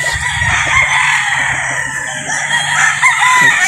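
A Black Boston gamefowl rooster of Boston Roundhead bloodline crows close by, a drawn-out call over a steady background of other fowl clucking and calling on a farm.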